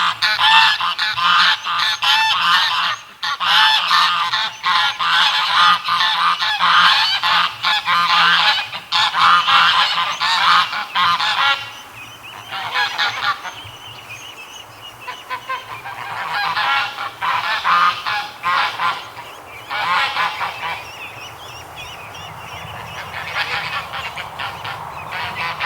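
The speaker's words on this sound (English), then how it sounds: "Oh, the geese are coming over." A flock of geese honks loudly and repeatedly, dense overlapping calls close by that fade and return in waves, with occasional faint talk underneath.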